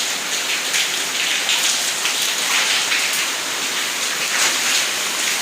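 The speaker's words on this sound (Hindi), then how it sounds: "बड़ी तेज़ बारिश हो रही है भाई।" Heavy rain pours down steadily beside a stairway where water runs down the steps, a dense, even hiss of drops on hard surfaces filling the scene with no break and no voices.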